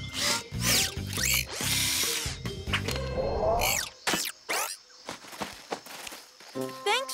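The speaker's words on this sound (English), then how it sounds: "Screwdriver!" A cartoon power screwdriver whirs in loud, rising and falling bursts while a jungle gym is taken apart, followed by clanks, thuds and scattered knocks, with some voice-like sounds in the mix.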